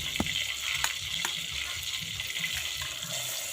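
Water pouring steadily into a cooking pot ahead of frying eggs, a continuous splashing wash with a few sharper taps of the pot, no talk over it.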